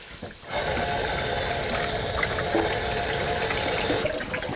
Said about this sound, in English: just gonna wash my hands here for a second